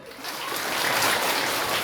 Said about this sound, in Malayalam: ഒന്നുകൂടെ കൈയടിക്ക്